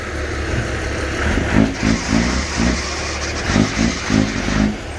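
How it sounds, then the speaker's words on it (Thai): A heavy diesel engine, the 168-horsepower EH700 in a KT725 combine harvester, revs in repeated surges over a steady rumbling idle, loud and close, with no talking. "เครื่องยนต์ EH700 ครับ168แรง"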